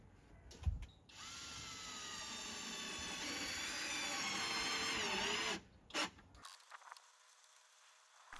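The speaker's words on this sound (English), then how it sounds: "I level the first strip and screw it in." A power drill drives screws into wooden strips while building a simple bike parking stand, whining steadily and rising in pitch for several seconds before stopping, then a few short clicks and knocks follow up close.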